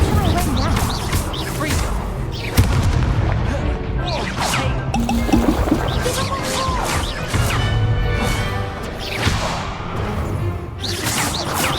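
Incendio fire spells cast repeatedly during combat in the Hogwarts Legacy video game, with whooshing bursts and crashing impacts amid a dense, loud battle mix, while voices shout spell names throughout.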